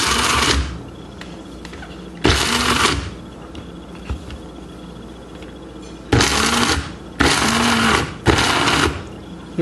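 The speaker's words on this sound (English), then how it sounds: "in my coffee blender." A coffee blender grinds peanuts in several loud whirring bursts of one to two seconds each, with quiet gaps between them.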